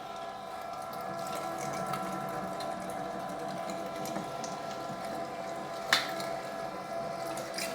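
An electric meat grinder grinding pork through a 6mm plate runs with a steady, even motor hum and mechanical whir. The sound is moderately close and continuous, with a single sharp clack near the end and no speech.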